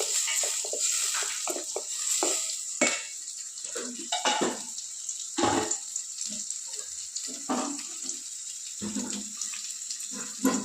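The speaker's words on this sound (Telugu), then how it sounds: "ఆవాలు, మినపప్పు, జీలకర్ర అన్నీ చిట్టుపట్లు ఆడిన తర్వాత చూడండి" Mustard seeds, urad dal and cumin splutter and crackle in hot oil in a pan, a steady dense hiss dotted with sharp pops throughout, close and fairly loud, with no talking.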